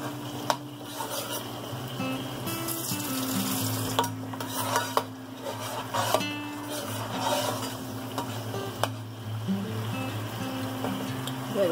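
Salmon fillets frying in a pan of sweet tomato sauce, a steady sizzle broken by clinks and scrapes of a utensil stirring against the pan, with a few sharp knocks along the way.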